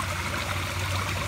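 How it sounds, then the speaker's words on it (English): Waterfall near a rocky stream, a steady, fairly faint rushing and trickling wash of water with no voices. "I'm trying to talk a little bit louder than this waterfall right here."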